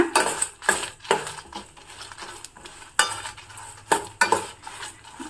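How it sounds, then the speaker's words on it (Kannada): Black peppercorns are dry-roasted in a pan, a spoon scraping and clattering against the metal in repeated bursts, with light rattling of the peppercorns and faint sizzling between strokes. "ಕಾಳು ಮೆಣಸುಗಳನ್ನು ತಗೊಂಡಿದ್ದೀನಿ ಇದನ್ನು ಇವಾಗ ಪ್ಯಾನ್ಗೆ ಹಾಕ್ತಾ ಇದ್ದೀನಿ ಇದನ್ನು ಚೆನ್ನಾಗಿ ಹುರ್ಕೊಳ್ಳೋಣ"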